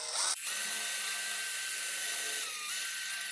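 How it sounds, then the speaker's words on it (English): A power drill spins a wire wheel against a 1947 Willys CJ2A Jeep battery tray, stripping paint around a hole, a loud, steady high-pitched whine that runs almost unbroken after a short opening burst. "get your drill with the wire wheel attachment, and with your wire wheel, it will remove all the paint around your hole"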